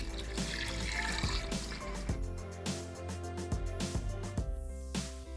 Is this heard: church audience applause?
no